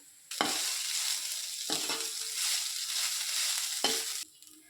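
Carrot rice seasoned with sambar powder is stirred and fried in a pan, giving a continuous sizzle broken by three sharp scrapes of the spoon against the pan, with no voices.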